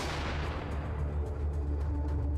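Gunfire rages through a combat encounter in the video game Atom RPG, a dense, rumbling barrage of overlapping shots and booms that fills the whole stretch at steady volume, with no voices.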